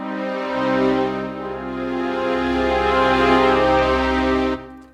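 Orchestral sketch playback of sustained long notes from a template, with layered harmonic tones holding steadily and swelling slightly before cutting off near the end; no talking.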